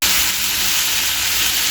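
Jamaican cow foot frying uncovered in a pot as it browns, a loud steady sizzle and hiss of hot oil and steam throughout, with no talking.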